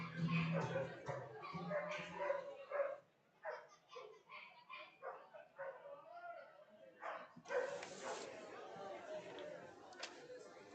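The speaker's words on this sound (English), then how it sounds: "We were talking about dogs barking." Several dogs bark and yip repeatedly near a minor-league baseball game between the Evansville Otters and New York Boulders, in uneven bursts, with voices talking over the barking throughout.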